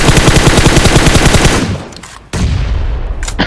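Rapid automatic gunfire in PUBG blasts in a steady rattling stream, loud and close, then a brief lull before more shooting resumes.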